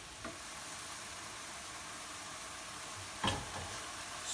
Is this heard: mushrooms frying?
yes